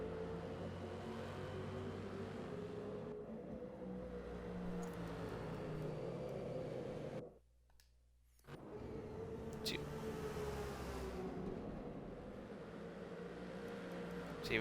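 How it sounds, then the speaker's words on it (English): Broadband engine roar from a large field of GT3 race cars streaming out of the pits at Daytona in a racing video game, continuous and loud with a brief drop to near silence midway before the roar resumes. "See, we've got a huge amount of cars coming out."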